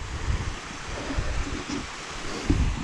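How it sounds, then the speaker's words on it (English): Steady rushing water from a small waterfall on Blackden Brook, Edale Moor, a continuous close splashing wash with a few brief louder bursts. "half decent set of waterfalls"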